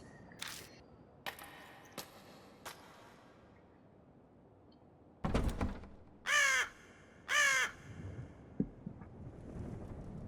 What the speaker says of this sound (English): A bird cry breaks the silence. I guess there's a crow or something outside.